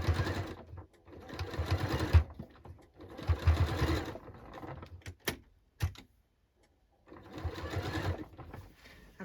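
Close by, a sewing machine stitches a skirt piece onto a jacket in three bursts of rapid, even whirring, separated by pauses with a few clicks and taps.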